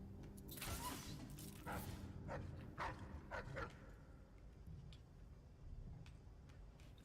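A dog barks and yips repeatedly in Death of the Outsider, a series of sharp, fairly close barks with whimpering yelps between them over a low background rumble.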